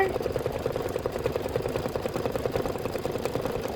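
An embroidery machine stitching a snow decorative outline in white thread, a fast, steady, rhythmic mechanical chatter, close and continuous.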